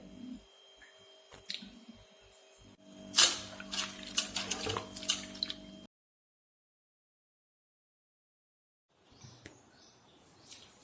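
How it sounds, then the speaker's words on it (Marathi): Amaranth leaves are swished and squeezed by hand in a basin of cold water, producing intermittent splashes and drips, then a long silent gap before faint sloshing resumes; faint birdsong sits in the background. "आता ही चाळणीतली भाजी परत मी पाण्यात थंड पाण्यात ओतली आहे घमेलपाटीमध्ये आणि परत ही अशी स्वच्छ धुवून घेत आहे"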